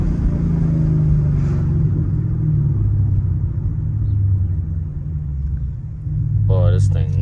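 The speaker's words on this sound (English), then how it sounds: "You already know there's only one way to drive a Mustang. That's in sport mode, baby." A Ford Mustang drives in sport mode with a loud, close, deep engine rumble that dips slightly and then swells again as it revs, while a person speaks briefly near the end.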